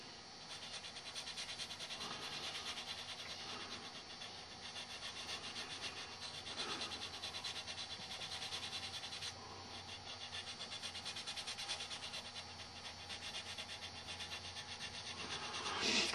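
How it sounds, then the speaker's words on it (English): Steady, continuous rasping of sandpaper on the plastic body of an older 1960s model car kit, rubbing back and forth close up without pause. "I gotta sand her back down a little bit so I can get it ready for primer"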